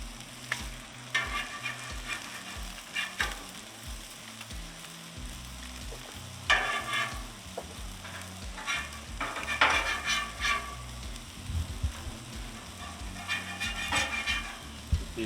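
Eggs fry in rings on a grill, sizzling steadily and near, broken by repeated bursts of scraping and spatula clatter on the metal surface, with no talking.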